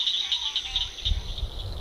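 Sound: many frogs calling in wetland habitat

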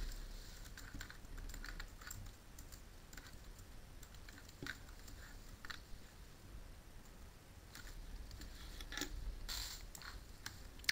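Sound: typing on a computer keyboard

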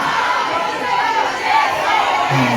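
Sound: concert audience shouting song requests

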